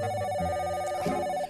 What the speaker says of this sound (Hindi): ये देखो बज गई घंटी।